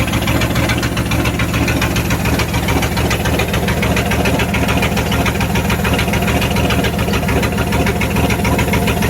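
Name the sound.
Dodge Ram 318 V8 engine idling with open exhaust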